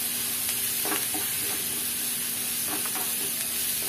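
Sliced onions softening in a hot pan give a soft, steady sizzle and hiss, with a few brief stirring scrapes near the start and end, close and fairly quiet, no talking.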